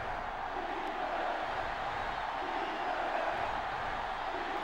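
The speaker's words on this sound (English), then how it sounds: "Crowd getting into it." A stadium crowd in the college football video game NCAA Football 06 roars steadily, a dense wall of cheering that holds at an even, loud level throughout without clear peaks.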